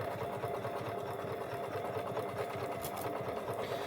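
Sewing machine running a quarter-inch seam while making bias binding, a quiet, even, rapid mechanical whirring and clatter held steadily throughout, with no talking.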